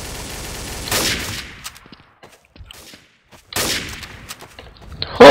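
Gunfire bursts out in the video game Trouble in Terrorist Town, with loud rapid shots at the start and again near the end, separated by quieter gaps with faint footsteps.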